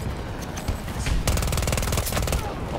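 Automatic gunfire in the video game Battlefield 2042: a dense, loud, continuous burst of rapid shots that builds up partway through and keeps hammering over a busy battlefield background.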